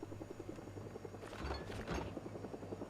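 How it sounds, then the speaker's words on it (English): A helicopter in the video game Project Zomboid hovers nearby with a faint, evenly pulsing rotor chop and a low droning hum, briefly swelling in the middle of the short stretch. "Oh, Chopper's here."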